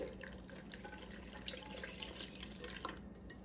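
Warm milk and water pour into a bowl while making dough for chicken and cheese esfirras, a steady close liquid splash running continuously with no talk.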